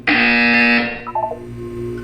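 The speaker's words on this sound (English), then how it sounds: "You will hear a buzzer." A loud, harsh electronic buzzer from the video game Portal 2 blares for under a second, then a few short electronic tones follow over a low steady hum.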